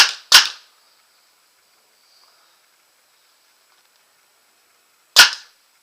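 Two sharp, loud shots from a Proto Matrix Rail 2011 paintball marker fitted with a QEV, fired as clearing shots: two quick pops close together, a long quiet pause, then a single pop near the end.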